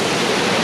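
Shadow Falls waterfall in the Cohutta Mountains, partly blocked by a big blowdown, roars as a steady, loud, broadband rush of falling water close by.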